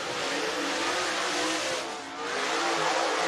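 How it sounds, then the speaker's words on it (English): Dirt race car at Southern Raceway in Milton, Florida, accelerating hard out of turns three and four on the dirt oval, a loud continuous engine roar close by that dips briefly before surging again. "Slipping up out of turn number 3 and 4 right there is the 44 car of Cook"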